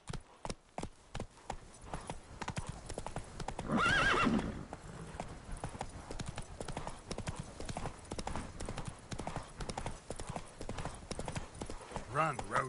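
Roach the horse in the Witcher 3 video game gallops with rapid, rhythmic hoof clip-clops and gives a loud whinny partway through, with someone speaking briefly over the hoofbeats.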